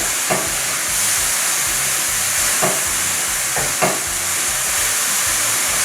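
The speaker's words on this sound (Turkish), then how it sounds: "Mantarların güzelce hızlıca kavruldular" Loud, steady sizzling of mushrooms frying quickly in a hot pan, with a few soft clicks of stirring and no voices.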